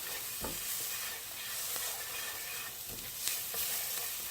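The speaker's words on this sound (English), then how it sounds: "cinnamon, cumin and paprika are mixing in. Smells absolutely gorgeous. Mixing in with the onions." Onions frying in a pan with cinnamon, cumin and paprika, stirred steadily: a soft continuous sizzle with occasional scraping strokes of the spoon, fairly quiet and close, with no talk.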